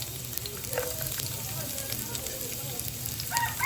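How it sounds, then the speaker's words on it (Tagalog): Plenty of garlic sautéing in a pan on a gas stove, a steady close crackling sizzle that runs the whole time with little change. "Igisa natin yung ating bawang."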